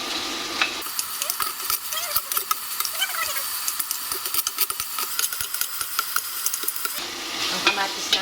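Garlic, onion and tomato sautéing in a pan, a steady close sizzle with scattered clicks and stirring scrapes, softer at the start and end.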